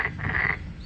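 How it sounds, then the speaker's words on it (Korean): A single short, buzzing croak from a toad or narrow-mouthed frog, fairly close, at an arboretum in Daegu, over a low background rumble from a power tiller. "이건 뭐 두꺼비 소리예요?"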